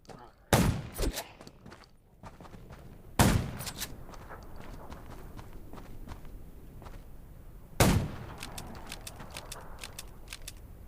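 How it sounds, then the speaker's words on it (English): Three sharp, loud gunshots from the zombie survival game Undawn ring out several seconds apart, each followed by a brief echo, over a low background hum with faint clicks. "Gunshots will attract more zombies."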